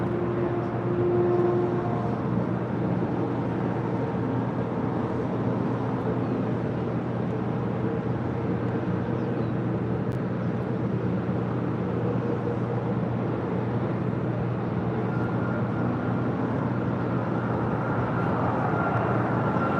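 Frontier Airlines 'Zippy' airplane taking off on runway 25 right at Los Angeles airport, a long sustained jet engine roar with a deep rumbling low end, steady and fairly distant.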